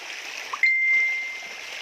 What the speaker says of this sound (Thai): มีน้ำตกด้วยนะฮะ นี่นะ น้ำไหลเย็นมากเลยครับ